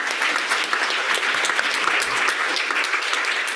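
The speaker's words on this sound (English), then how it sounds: "if you can please take my invite to give a round of applause to this panel." Audience applause for a panel at a conference session on the future of work and digital technology, a steady, even clapping from a sizable crowd with no talking.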